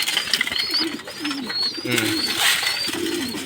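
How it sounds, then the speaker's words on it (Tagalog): Pigeons coo in soft, low warbling phrases in a pigeon loft, several birds overlapping close by, with some rustling and higher chirps in the background. "Ganyan kasi sigla itong mga kalapati natin."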